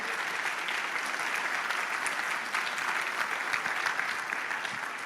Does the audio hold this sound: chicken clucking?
no